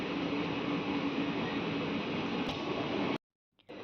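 The Dhone to Guntur Express rolls along through the Nallamala forest hills, heard from inside as a loud, steady rumbling roar that cuts off abruptly near the end before faint sound returns.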